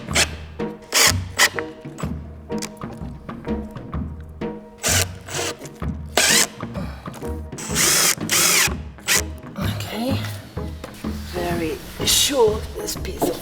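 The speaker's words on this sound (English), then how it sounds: "I start with just actually screwing one in the middle." A power drill drives screws into wood to fix acoustic fabric in a barn recording studio, with repeated short bursts of whirring close by, mixed with rustling, handling noises and some talk.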